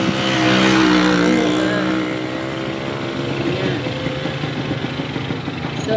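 Motorcycle engine on a ride from Antequera, San Isidro to Calape in Bohol, a steady droning hum that swells louder early on and then settles into a continuous, slightly rougher running tone, close to the rider.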